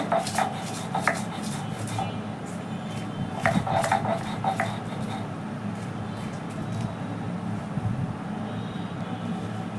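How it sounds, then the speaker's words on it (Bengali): Dried chilies and salt being ground by hand on a grinding stone, a steady rough scraping and rubbing with scattered sharper knocks, close and moderately quiet, with no talk. "শুকনো মরিচ সামান্য মরিচটা লবণ দিয়ে বেটে নিচ্ছি"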